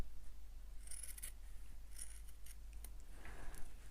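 Scissors cut fabric pieces for sewing, with several close, crisp snips in quick bursts against a quiet room with a low hum underneath.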